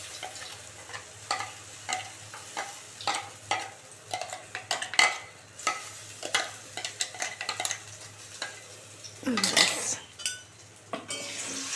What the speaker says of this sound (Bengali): এবারে এর মধ্যে মিক্সিতে করা ডালটা পেস্ট করাটা দিয়ে দেবো এর মধ্যে।